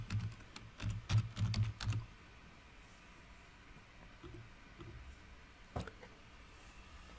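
Fingers type on a computer keyboard, entering a search term into Final Cut Pro X. A quick burst of close, crisp keystrokes fills the first two seconds, then low hiss with one more isolated click near the end.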